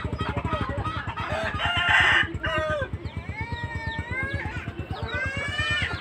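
Rhode Island Red heritage rooster crowing in a backyard farm, a loud close crow over a steady rhythmic low pulsing noise, with other bird calls and clucks following.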